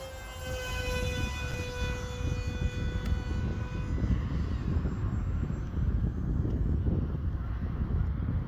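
A Hobbyzone Aeroscout RC airplane flies in gusty wind, its steady motor whine holding a drifting tone over continuous loud wind rumble throughout.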